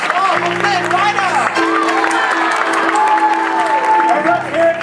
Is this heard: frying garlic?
no